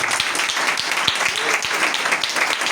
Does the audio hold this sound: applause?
yes